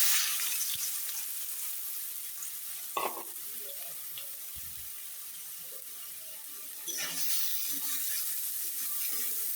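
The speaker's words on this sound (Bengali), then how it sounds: "দেখেন আমি কিভাবে ভাজি করি।" Boiled potatoes frying in hot oil for a potato and greens stir-fry, a steady soft sizzle throughout with occasional stirring clinks and a brief low scrape midway, fairly quiet and close.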